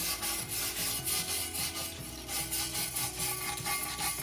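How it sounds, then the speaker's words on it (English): Osborn scratch brush scrubbed over a steel weld, a dense continuous raspy wire-bristle scraping in quick repeated back-and-forth strokes, close and steady, with no voices. "take the brush and brush your weld"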